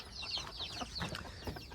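A white hen with her eight chicks clucks and cheeps nearby, soft rapid peeping and low clucks overlapping in a busy, fairly quiet chatter.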